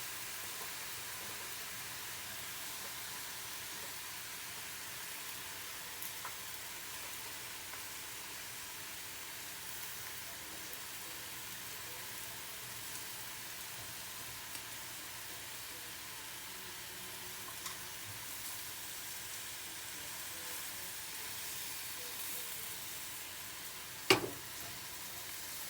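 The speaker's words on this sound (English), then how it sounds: "after stir frying it some more and using the tongs here to mix it all up" Hoisin turkey noodles stir-fry in a hot pan, giving a faint, steady sizzle throughout while tongs toss them, with a few soft clicks and one sharper tap near the end.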